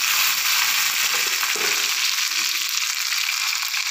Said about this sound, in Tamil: நல்லா இப்போ வெங்காயம் வதங்கிட்டோம்.